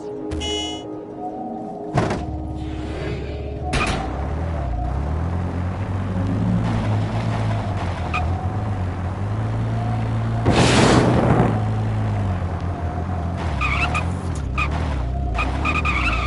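A car in the video game Defiance 2050 drives with a constant loud engine drone, thumps over impacts and skids with a long tire squeal midway, alone without talk.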